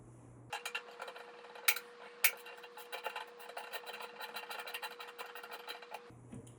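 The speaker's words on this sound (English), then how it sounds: "Take your ratchet, put it on tighten." A hand ratchet tightens the hinge bolt of a slow-close elongated toilet seat with brushed nickel hinges, giving a steady run of fast, close clicking with two sharper knocks early on, alone and fairly quiet.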